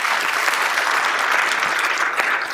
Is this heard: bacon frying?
no